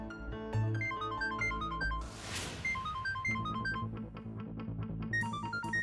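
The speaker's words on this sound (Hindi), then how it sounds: "आलिया का फोन?" A melodic phone ringtone plays a repeating electronic tune, fairly loud, with a brief whooshing swell in the middle.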